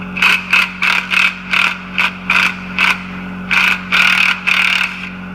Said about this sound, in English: you just loosen the bolt